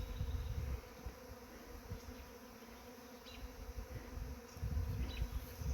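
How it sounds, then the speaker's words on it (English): A dense, buzzing hum of many bees swarming nearby, rising and falling in intensity, with occasional single bees zipping closer past. "Look at all those bees."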